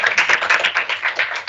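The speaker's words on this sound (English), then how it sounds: "We love a good clap." A short burst of rapid hand clapping from a small group in a meeting room, close and bright, lasting under two seconds with no talk over it.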